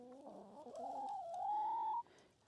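Backyard chickens cluck and croon near the coop at sundown, a drawn-out rising call that swells louder, then cuts off abruptly, followed by a brief quieter murmur.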